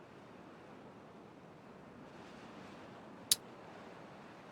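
Water flowing back into a pond in the video game Timberborn makes a steady, soft rushing wash that swells slightly midway, with one sharp click near the end.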